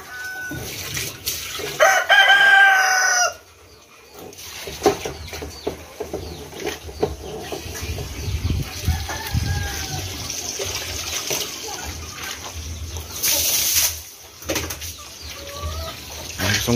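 Kabagis chickens crow and cluck nearby while water is poured over them with a dipper during an afternoon bath, splashes mixing with the birds' calls.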